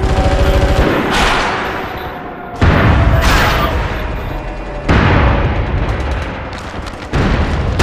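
Light machine gun fire in the online shooter MAG, a defensive battle at Aralkum, with heavy sustained bursts and loud booming shots that surge repeatedly over about eight seconds, close and dense, with no talk.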